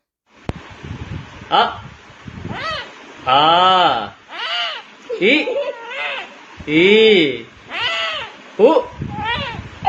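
A kitten meows again and again in drawn-out, talk-like cries, close and loud, with short pauses between calls and a brief click at the start.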